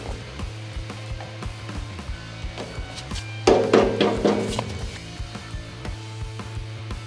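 Hammer blows tapping rubber pinch weld trim onto the body edge of a Toyota Hilux N80, a short cluster of sharp knocks midway over a steady low mechanical hum, close and moderately loud.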